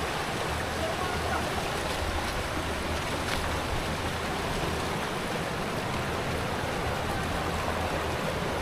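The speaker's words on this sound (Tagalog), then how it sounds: "ito yung Palacol River" The Palakol River in Floridablanca rushes steadily, a dense, even roar of flowing water sustained throughout at close range.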